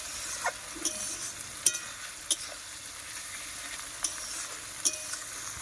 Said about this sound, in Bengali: রসুন বাটা একটু নেড়ে তারপর মশলা আর আদাটা দেবো